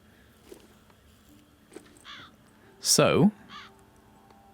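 A bird caws once, loud and close, in the video game The Walking Dead: Saints & Sinners, over quiet ambience with a few faint calls and a brief spoken word.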